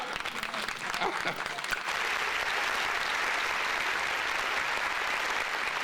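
A crowd at a political party's national congress in Haiti claps loudly and steadily, the applause swelling and holding at full strength, with a voice briefly heard at the start.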